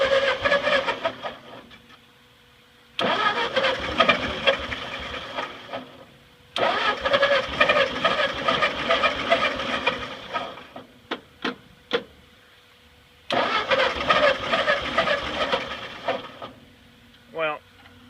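A Ford 8N tractor's starter cranks the engine in several long, loud, close bursts separated by pauses, with a few short taps in between; the engine does not catch.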